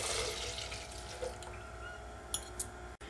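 Milk poured into a grinder jar for a chocolate milkshake, a soft steady liquid stream heard close up for a few seconds, with faint clinks near the end and a brief cut-off just before it finishes.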